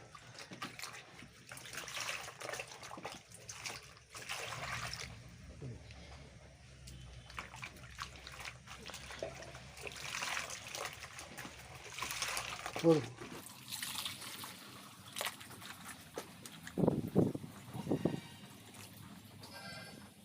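Running water splashes and trickles steadily in the background while a person talks over it, rinsing a woman's wig, with a few sharper sloshing bursts near the end.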